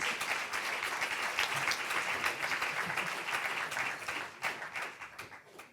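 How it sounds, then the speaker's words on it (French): Lecture-hall audience at a talk on the blue economy applauds steadily, a dense wash of many hands clapping that holds for several seconds before thinning and fading out at the end. "Merci pour vos applaudissements"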